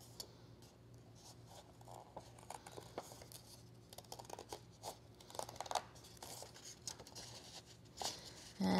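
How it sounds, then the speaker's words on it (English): Small scissors cutting paper for a kids' craft, quiet snipping and rustling as the paper is turned, soft and close with irregular cuts across the whole stretch. "scissors to cut this out."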